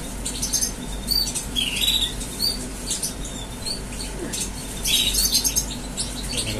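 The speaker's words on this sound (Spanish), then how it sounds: "observando también a los gorriones que vienen." Sparrows chirp in short, high bursts near a house with flower pots, with occasional wing flutters over a noisy, rustling background; no voices.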